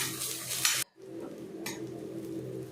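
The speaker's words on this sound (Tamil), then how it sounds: "வெங்காயமும் கருவேப்பிலையும் நல்லா வதங்கி வர அளவுக்கு வதக்கிக்கலாம்." Onions and curry leaves sauté in oil for a chicken fry. A soft sizzle is cut by a short break, then resumes steadily, with light stirring clinks and no talk.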